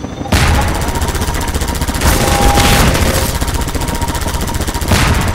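Rapid, sustained gunfire from combat in Half-Life 2, loud and close, with dense overlapping shots and a few stronger bursts that roll on without a break.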